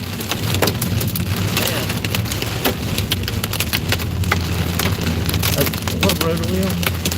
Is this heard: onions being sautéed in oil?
no